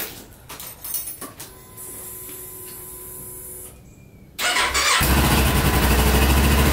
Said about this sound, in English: I really do hope my bike does turn on